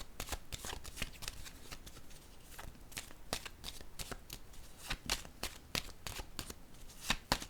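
A deck of playing cards is shuffled repeatedly up close, sharp riffling bursts and flicks coming in quick irregular succession, crisp and fairly quiet, with no talking.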